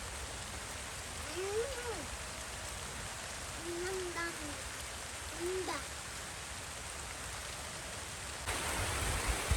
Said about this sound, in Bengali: বছরের প্রথম বৃষ্টি